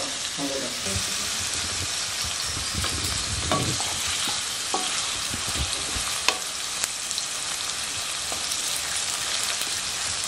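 Onions frying steadily in hot oil with whole cumin seeds for chicken kosha, a continuous bright sizzle with occasional soft stirring scrapes and clicks from the pan throughout.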